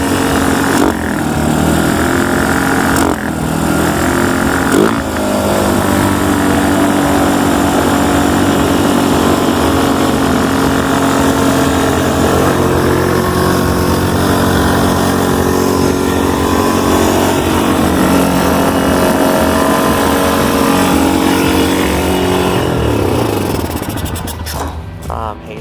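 An ATV engine with a faulty carburetor and sticking throttle runs loud and close for a long stretch, a buzzing drone with uneven surges and dips early on before fading toward the end.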